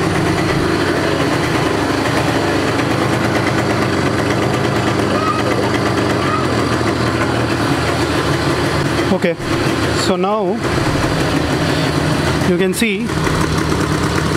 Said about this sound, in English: the idling is perfect, but it is idling slightly higher because of I have left the synchronizer valve open